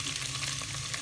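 Chicken pieces sizzle in a pan of fried ginger garlic paste while a white chicken biryani is cooked, a steady, close crackling fry with no voices.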